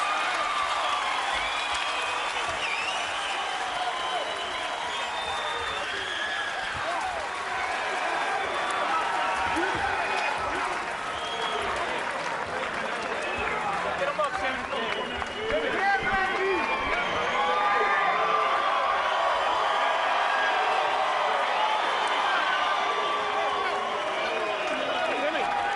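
Around 2,000 hometown fans at a welterweight boxing fight featuring Timothy Bradley keep up a continuous roar of cheering and applause, while a commentator talks over the crowd throughout.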